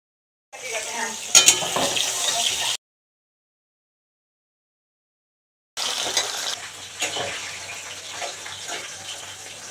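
Milk heating in a pot for payesh gives off a hissing, bubbling wash of sound in two bursts separated by a few seconds of silence.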